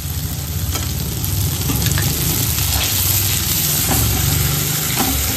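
Spices and cashew paste sizzle loudly in a pan for black-cumin potato dum, with steady close frying hiss and the repeated scrape of stirring throughout.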